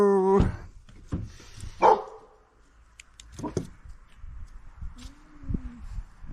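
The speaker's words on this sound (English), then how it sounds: "Why are you howling, Pepper?" A dog lets out a few short barks and a brief whining howl, close by, inside a cabin, followed by quieter shuffling and a low murmur.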